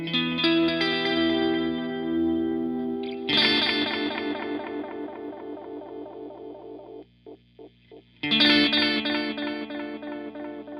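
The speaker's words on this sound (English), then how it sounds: "so you should hear that quicker vibrato now" An electric instrument plays through a Dawner Prince Boonar echo pedal with its drum speed turned up, producing a fast, warbling vibrato on sustained chords, with a few short plucked notes and a loud chord swell, no voices.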